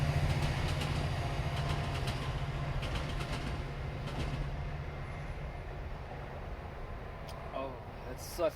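A loud train passes nearby with a steady low rumble and rolling rail noise that holds through most of the stretch, then eases slightly toward the end.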